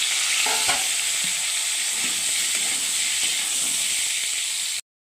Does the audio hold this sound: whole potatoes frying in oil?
yes